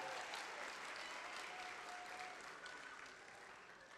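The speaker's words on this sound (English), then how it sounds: "Let's give him another round of applause for that message" Audience at a school event applauding Tony Dungy, a broad, continuous round of clapping that slowly fades toward the end.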